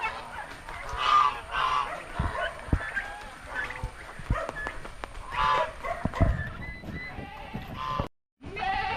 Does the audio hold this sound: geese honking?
yes